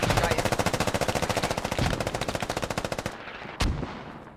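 Sustained automatic gunfire in a competitive video game match, a rapid, evenly spaced stream of loud shots lasting about three seconds, then a pause and a single heavier blast.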